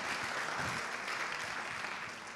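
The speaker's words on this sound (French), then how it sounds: "qu'on peut applaudir" Sustained crowd applause from a conference audience in La Rochelle at an evening talk on future food, a thick, even patter of many clapping hands that holds steady throughout and eases slightly at the end.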